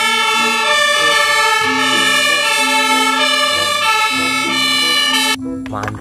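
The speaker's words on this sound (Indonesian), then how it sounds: "Ada mobil pemadam kebakaran." A toy fire truck plays a loud, close electronic wailing siren with steady stepped tones, which cuts off abruptly near the end and leaves brief clattering handling noise.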